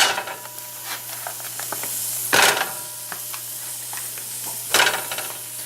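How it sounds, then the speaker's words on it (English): Ground meat sizzling in a frying pan on a stove at medium heat, a steady close crackle with scattered pops and two louder bursts of spatter, no talk. "we're going to pop that meat in there"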